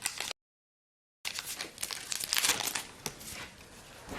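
A Pokémon XY Impact des Destins booster pack wrapper being cut and pulled open, giving close crinkling and tearing foil sounds. A brief silent gap is followed by steady rustling, with no speech.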